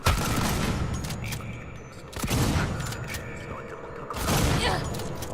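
Gunfire in the video game Alien: Isolation comes as three loud bursts roughly two seconds apart over a dense game soundscape, with someone speaking briefly.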